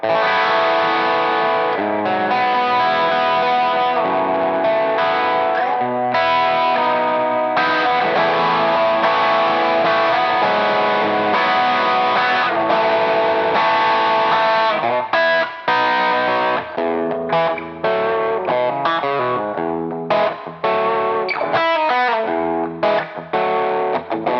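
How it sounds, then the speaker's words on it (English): Open chords strummed on a Gibson Switchmaster electric guitar through its bridge pickup, with a bright, honky, 1950s-style tone; chords ring out steadily and loudly for over twenty seconds with no talking. "Let's just hear some open chords in that bridge position."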